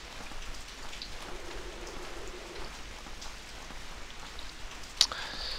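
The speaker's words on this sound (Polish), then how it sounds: "pada deszcz" Steady rain patters in a video game scene, a soft continuous hiss of falling drops, with a brief sharp click near the end.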